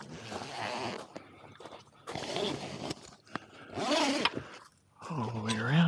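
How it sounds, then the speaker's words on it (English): Heavy-duty zippers on a Go Fast Camper rooftop tent are pulled in several long rasping strokes around the tent, close and fairly loud, followed by a voice at the end. "Okay, big beefy zippers."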